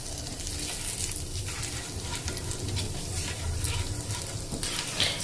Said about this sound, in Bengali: দেব হাফ চামচ জিরে, 1 চামচ বেসন। এবার এটাকে একটুখানি ভেজে নেব।